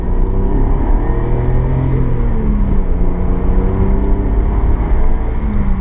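A 1990 Nissan Skyline R32 GTS-4 with a 2-litre engine being driven, its engine droning loud and steady from inside the car, with shifting tones as the gearbox moves through the gears.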